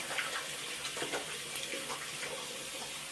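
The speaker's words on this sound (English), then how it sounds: "I just rinse my face with a bit of warmish water." Warm water runs from a tap while someone rinses their face at a sink, giving a steady close rush with small splashes and no voice.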